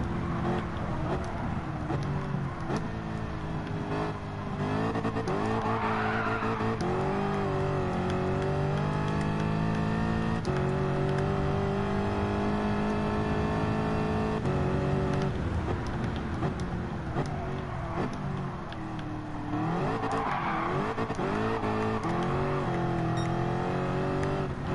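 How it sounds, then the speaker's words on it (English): A car in Gran Turismo 7 drifts and spins donuts, its engine holding a loud, continuous high-rev drone for the whole stretch. Pitch rises and falls as it revs, with tire squeal swelling in and out and no voices. "This guy was drifting, and now he's kind of just doing donuts, I guess."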